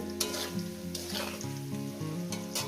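Food sizzling in a hot pan, a dense continuous hiss with crackling bursts over a low steady hum, close and fairly loud, with no voices.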